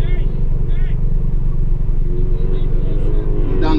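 A VW MK7 Golf R rumbles loudly at low speed on a parade lap at an autocross, its engine drone steady and close with no hard revving, while a voice talks over it.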